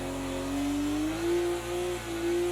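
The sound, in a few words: BMW 1M engine revving at Bathurst in video game Project CARS 2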